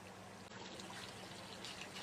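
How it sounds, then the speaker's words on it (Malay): Tamarind water is poured into a meat curry cooking in a pot, making a soft, continuous trickle that stays faint and steady throughout, with no talking. "Masukkan air asam."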